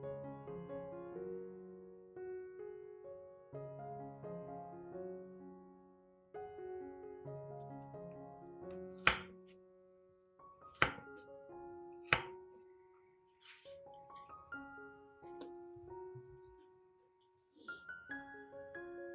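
Carrots chopped on a board, a few sharp, isolated knife strikes spaced several seconds apart beneath steady melodic background music.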